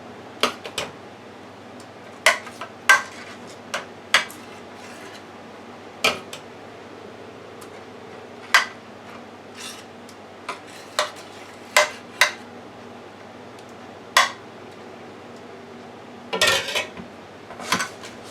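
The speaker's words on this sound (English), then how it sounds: "I want to add some cheese sauce to the bottom of the pan" Cheese sauce spooned into the bottom of a baking pan for baked mac and cheese, with sporadic clinks and scrapes of a metal utensil against the pan over a quiet hum.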